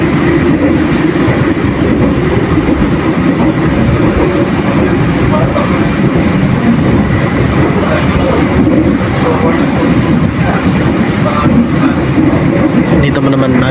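The KA Progo passenger train rolls along the rails with a loud, continuous rumble and rhythmic clatter from inside the carriage, and voices are faintly audible under the noise.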